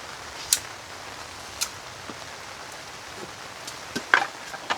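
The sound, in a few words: rain falling while camping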